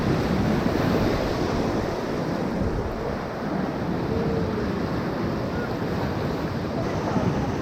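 Whitewater rapids on the Upper Ocoee River roar steadily while rafting, a dense continuous rush of churning water with some wind buffeting, loud and close throughout with a possible faint voice.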